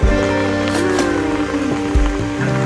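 Rain pours steadily onto a surface, a dense close patter with a few louder knocks and a low hum underneath.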